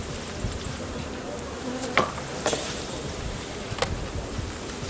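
Bees buzzing steadily up close around a hive frame during a hive inspection, with a few brief scrapes and clicks of handling around them.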